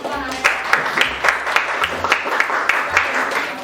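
Students and a teacher in a classroom clap for a presentation that has just ended, giving a burst of uneven applause with voices murmuring through it.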